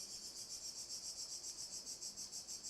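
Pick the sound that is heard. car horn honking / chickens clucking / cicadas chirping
cicadas chirping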